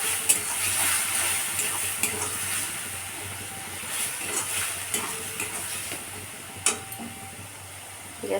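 Ginger-garlic paste sautéing in a pan, a steady close sizzle with scraping stirs and occasional sharp clicks of the spatula against the pan, no voices.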